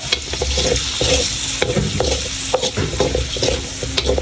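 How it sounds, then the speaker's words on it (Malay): Squid frying in a pan with oil, turmeric powder, meat curry spice and chili powder, stirred with a utensil: close sizzling under repeated scraping strokes and clacks in an irregular rhythm. "Kita kacau lagi sehingga masak."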